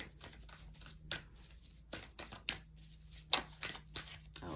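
Tarot cards being shuffled by hand, a series of crisp riffling bursts and soft slaps at an uneven pace, close and fairly quiet.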